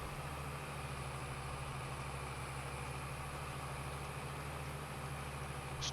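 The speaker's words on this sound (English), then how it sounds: "This tractor's hauling this pretty good." A tractor engine in Farming Simulator 22 hums steadily in a low, even drone while hauling a planter across a field, with no breaks or talk.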